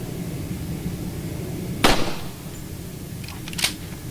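Two sharp shotgun blasts from the Resident Evil 4 video game, roughly two seconds apart, each loud and quickly decaying over a low steady background rumble.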